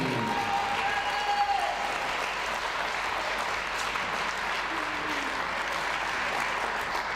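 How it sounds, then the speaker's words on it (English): Darts crowd at the World Masters semi-final applauding a young English player, a dense, steady wash of clapping and cheering that fills the hall at an even level throughout. "Come on, a round of applause, the young man from England, Charlie Corstafi"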